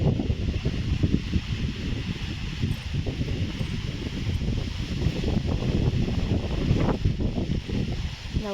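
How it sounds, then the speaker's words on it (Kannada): Strong gusty wind blowing steadily near a house with a large peepal tree, a continuous loud roar with rustling and buffeting throughout, no voices. "ಸಿಕ್ಕಾಪಟ್ಟೆ ಗಾಳಿ ಇದೆ ಮಾತ್ರ, ಅಂದರೆ ಹೇಳೋಕ್ಕಾಗಲ್ಲ ಬಿಡಿ, ಅಷ್ಟು ಗಾಳಿ"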